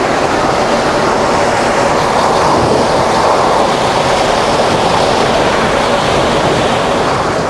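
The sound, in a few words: Peppercorn Pacific steam locomotive Tornado running at speed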